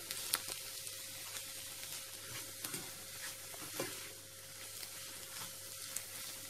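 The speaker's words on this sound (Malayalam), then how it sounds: "അത്ര സമയം നമ്മൾ വഴറ്റി തന്നെ കൊടുക്കണം കേട്ടോ." Kerala chicken curry masala sautés in coconut oil, a continuous quiet sizzle broken by intermittent scrapes and taps of stirring, with no voices.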